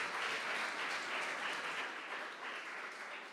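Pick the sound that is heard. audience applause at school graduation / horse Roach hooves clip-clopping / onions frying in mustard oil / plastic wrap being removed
audience applause at school graduation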